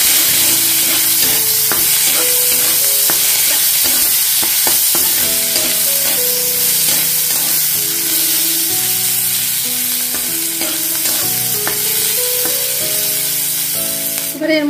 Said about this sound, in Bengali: দিয়ে দিচ্ছি একটা কেটে রাখা পেঁয়াজ দিয়ে দিলাম এর মধ্যে, দিয়ে হালকা ফ্রাই করে নেব এটা